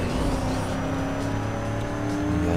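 A Porsche GT engine drones steadily in the Need for Speed Most Wanted racing game, a continuous mid-level hum with layered harmonics and no clear revving peaks, heard alone.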